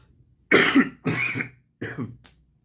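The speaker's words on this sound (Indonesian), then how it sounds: "lagi agak batuk ini" Three harsh coughs, close and loud, spaced about a second apart, with a faint short rasp trailing after the last one.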